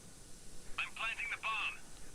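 Bomb planting in the mobile shooter Critical Ops: a short run of clipped electronic beeps, evenly spaced in a quick sequence, faint over a low hiss.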